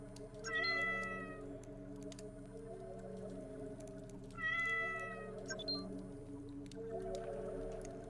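Cat in the game Cyclopean: The Great Abyss meowing angrily, two sharp rising yowls several seconds apart over a low, steady hum of game ambience.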